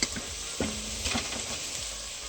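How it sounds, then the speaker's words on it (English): Meat browning in a pan with onions for a soup, a close, steady sizzle and crackle with brief stirring scrapes, and no talk. "Now we just gotta brown it."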